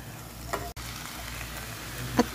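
Beef frying with sautéed garlic and onion in a pan, a steady close sizzle with a couple of brief stirring scrapes.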